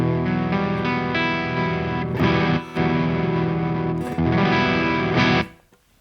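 Electric guitar played through a Marshall-style PV Windsor amp at low gain, sustained chords ringing loud and close with brief breaks before fading at the end.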